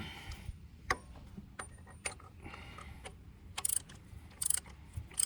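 Tightening a rear coolant pipe fitting on a Nissan, heard as close, sharp metallic clicks and ratchet-like ticks at an uneven pace, with brief scraping bursts and no speech.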